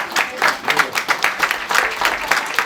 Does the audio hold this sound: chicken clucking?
no